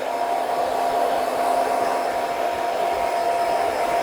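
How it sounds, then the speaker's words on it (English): A hair dryer blow-drying hair at medium speed on high heat, with a steady, loud, continuous whoosh and hum held close throughout and no talking. "Just gonna blast it dry,"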